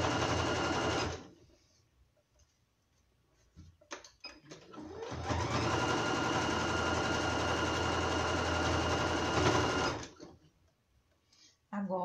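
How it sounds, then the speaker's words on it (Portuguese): A sewing machine stitches a fabric band onto the body of an apron made from a tea towel and printed vegetable-pattern fabric. The motor hums briefly, falls silent with light handling noises, then runs loud and continuous for about five seconds before stopping. "Eu tô costurando a faixa e tô prendendo no corpo do avental"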